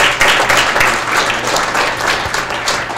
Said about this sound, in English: Can everyone give a round of applause for Daryl Wood?